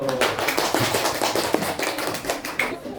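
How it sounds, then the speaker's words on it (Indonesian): Classroom students clapping for a group presentation, a lively run of close hand claps at an irregular quick rhythm, fading slightly at the end. "beri tepuk tangan kepada kelompok 1"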